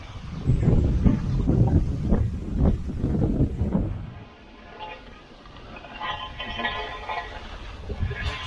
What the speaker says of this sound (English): it's really getting windy up here, and the camera kept blowing over